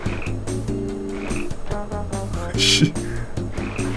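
Deep, repeated frog croaks from the Tasty Blue fish-growing game ring out in steady bursts over layered game music, with a brief splashy effect near the end.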